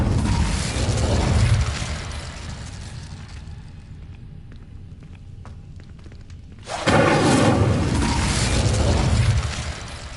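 An Incendio fire spell is cast in Hogwarts Legacy, a loud roaring burst of flame that fades to a quiet lull before a second sustained fiery blast erupts.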